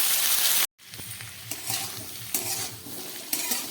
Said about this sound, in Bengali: সবজিগুলোকে একটু ভেজে নিই।